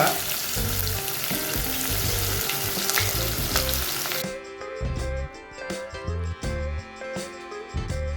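Onions fry loudly in a pan for mutton curry, giving a dense, close sizzle that drops to a quieter crackle with rhythmic pulsing background sounds after about four seconds.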